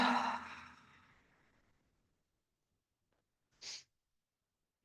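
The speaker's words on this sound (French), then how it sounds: "on va prendre une profonde inspiration. Ouvrir la bouche, expirer" A slow, deep breath pushed out through an open mouth during a yoga session on a mat, close and breathy, fading over about two seconds, followed by a short sharp breath noise, with no speech.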